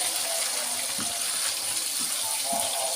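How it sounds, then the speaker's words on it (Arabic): Boiling water poured into a pot of rice seasoned with salt and cumin, cooked alongside fried tilapia and mackerel, makes a steady close hissing gush of liquid with a few soft splashes. "احط بقى الميه. ميه بتغلي."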